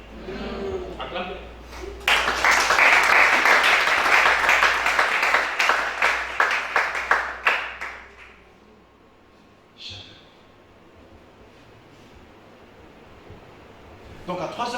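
A congregation at a prayer vigil applauds loudly for several seconds, the dense clapping thinning out and fading into quiet room tone, with bits of speech before and after.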